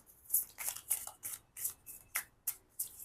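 Heavy oracle cards being shuffled by hand, a series of soft, crisp riffling bursts in an uneven rhythm, close and fairly quiet, with no one speaking.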